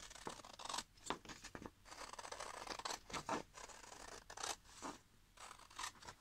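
Scissors snip repeatedly through a printed paper vintage passport front cover, close and crisp, with short scratchy cuts and brief pauses between strokes.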